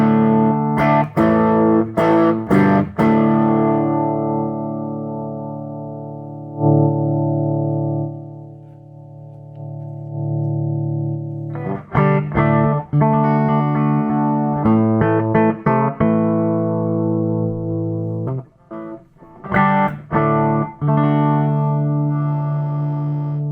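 Electric guitar played through a hand-wired Burman Pro 501 combo amp with the gain turned up, giving sustained overdriven chords and picked notes with bright attacks and a reverb tail, loud and close, with no talking.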